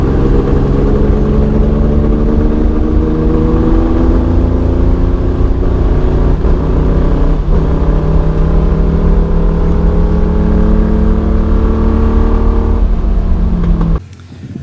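A Corvair race car engine drones loudly and steadily on a track, its pitch slowly rising and falling with rough, uneven firing, then cutting out sharply near the end.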